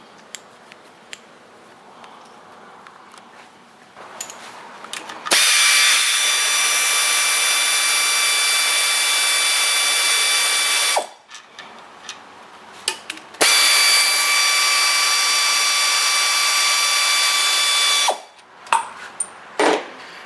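A power tool whirs loudly in two long sustained bursts, steady and close, as it runs bolts out of a 1962 Studebaker 289 V8 engine during disassembly, with small clinks and taps of hardware before, between and after.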